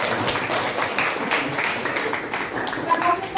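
An audience applauding at a school group presentation, a moderate patter of many hands clapping steadily at a middling distance, with speech mixed in.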